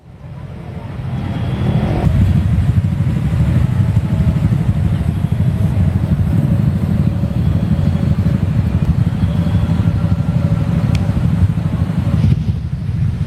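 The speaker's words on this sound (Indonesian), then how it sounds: "Pemudik motor kembali memadati jalur arteri Pantura Cirebon." Heavy homeward holiday motorcycle traffic on the busy Pantura arterial road in Cirebon, Indonesia: a steady, loud, close roar of many engines passing continuously without a break.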